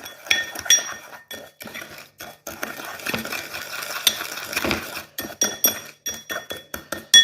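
A spoon stirs sugar into palm oil in a glass, giving repeated bright clinks and scraping taps in irregular bursts, close and fairly quiet, with short pauses between strokes.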